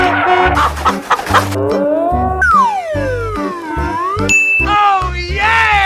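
A cartoon-style chicken clucks and squawks in a game, loud and close, amid bouncy music with sliding tones and bright dings.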